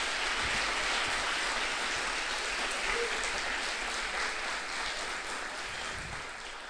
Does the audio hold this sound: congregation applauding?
yes